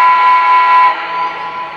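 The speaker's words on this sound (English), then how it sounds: "The whistle blow verifies that it took the command." Whistle of a Lionel Legacy Alton Limited 4-6-2 Pacific model steam locomotive, a single loud, sustained chime-like blast that holds steady for about a second, then drops off into a fading, ringing tail with no voices.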